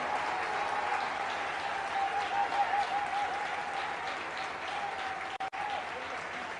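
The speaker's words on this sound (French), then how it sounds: "bon moment d'applaudir et de louer le Seigneur." A church congregation claps its hands in praise during a sermon, a steady, even wash of applause heard from a distance, fairly faint, with a voice faintly audible beneath it.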